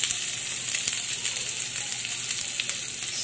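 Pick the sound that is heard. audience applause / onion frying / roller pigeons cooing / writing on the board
onion frying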